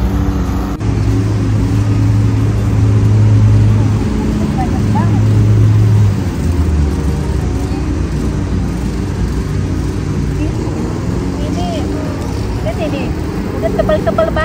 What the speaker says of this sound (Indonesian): lagi potong rumput di sana, jadi agak berisik ditambah suara mobil dari jalan raya